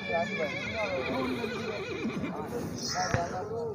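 A mare whinnying at the Tandla mandi horse market, a wavering, drawn-out neigh heard with voices and market chatter around it and a sharp knock near the end.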